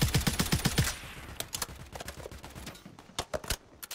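Rapid automatic gunfire in Warzone, an opening burst of close, loud shots followed by scattered bursts and single cracks, some nearer and some farther off.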